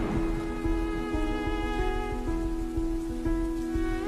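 Rain falls steadily outdoors, a constant close wash of drops heard alone.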